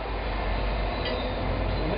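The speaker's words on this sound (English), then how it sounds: "that train's close." A train rolls by close to a backyard blacksmithing setup, producing a steady, broad low rumble and roar that holds evenly throughout with no talk over it.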